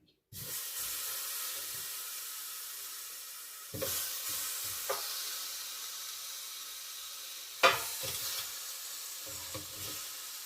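Garlic lamb chops sizzle on a hot air fryer tray, with sharp hissing bursts as each chop lands, then a steady fizzing between them.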